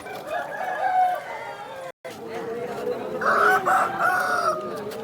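Roosters crow in drawn-out calls at a rooster market in Vijayawada, among them a cockerel with black markings, under crowd chatter and talking nearby, with a brief dropout midway.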